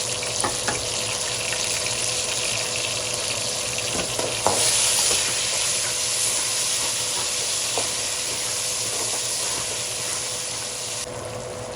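Garlic sizzles and fries steadily in a pan as chopped medium tomatoes go in for a chicken pulao, with a constant close hiss, light stirring and a few soft clinks.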